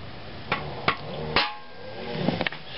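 Hammer blows drive an aluminium bushing into a Nissan 240SX: three sharp metallic strikes spaced apart, then a quicker cluster of lighter taps near the end, close and fairly loud.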